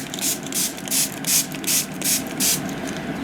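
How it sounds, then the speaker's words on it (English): A spray bottle of water hisses in a quick series of about eight bursts, evenly spaced and close, with soft clicks of the trigger between sprays. "And then spray some water."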